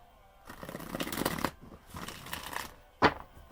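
Cards from a Synchronicity deck shuffled and laid out in a quick burst of papery riffling and flicks, ending with a sharp snap as a card is set down.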